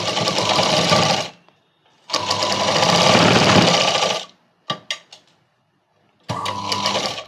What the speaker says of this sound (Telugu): ఈ భుజం మీద కూడా కుట్టు అనేది వేసుకోవాలి